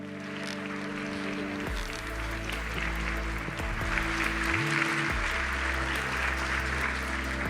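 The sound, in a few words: audience applause for speaker Jorge Olcina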